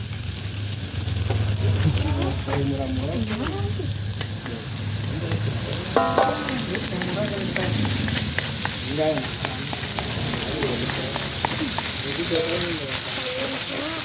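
Chilies fry in a pan for a green mussel curry with a yellow broth, a steady close sizzle with stirring scrapes underneath, while people talk over it.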